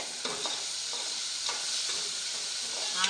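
Tomato pieces and tamarind fry and sizzle in a pan for an Andhra-style purple chutney, a steady bright hiss with soft stirring scrapes, close and continuous, no voices.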